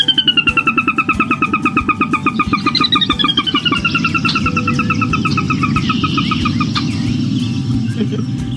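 A Sora rail gives its descending whinny call in a marsh, a long run of rapid repeated notes falling in pitch, clear and fairly close, over a steady low rumble of background noise.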